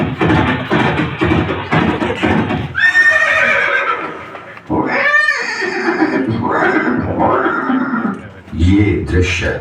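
Horse neighing and whinnying with some clip-clop hoofbeats, a sound display at the Chetak exhibit of a Haldighati museum honoring Maharana Pratap's horse; loud, repeated whinnies ring out over a busy mix with a voice talking throughout.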